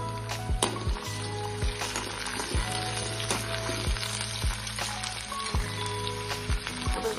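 Finely chopped tomatoes frying in a pan, giving a steady close sizzle, with periodic scrapes and stirring knocks of a spoon against the pan; no voices.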